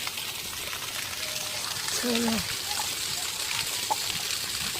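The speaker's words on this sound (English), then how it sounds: "That's the water from the tree." Water runs out of a natural tree trunk outdoors as a steady, continuous rushing trickle. Faint sounds rise briefly above it partway through.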